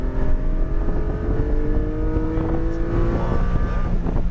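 A Porsche Cayman GT4 at full throttle on the Autobahn Country Club track: a loud, steady engine drone with rising harmonics, mixed with wind rush and road noise throughout.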